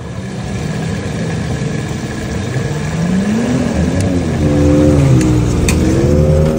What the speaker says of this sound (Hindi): इस तरह के इन्होंने ये स्कूटर रखे हुए हैं स्नो वाले